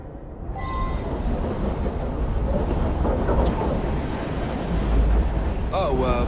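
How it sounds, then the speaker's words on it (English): Inside a moving train in Assassin's Creed Syndicate, a steady rumbling roar of wheels and carriage noise fills the space, with a brief voice at the end. "Well, it's a noisy train."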